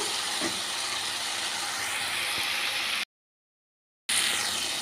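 Eggplant pieces soften in oil over a medium flame, giving a continuous, even, dense sizzling hiss that cuts out completely for about a second before resuming; no talking.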